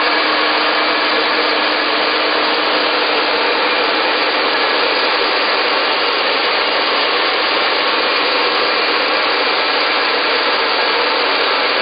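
A hair dryer blowing loudly and steadily, a constant airy whir with no pauses and no talking.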